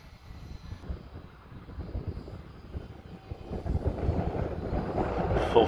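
A small Cessna airplane engine at full throttle, a steady droning roar that builds louder toward the end, with gusty wind buffeting the microphone.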